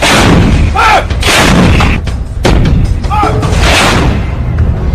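Heavy artillery fire from 155 mm howitzer guns, loud booming blasts repeating about every second or two, with rumbling echoes filling the gaps between shots.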